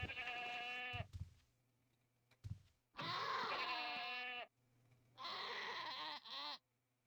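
Sheep in the Ultima Online video game bleat in a few loud, wavering calls, each about a second long, separated by brief pauses, heard alone with a faint low background hum.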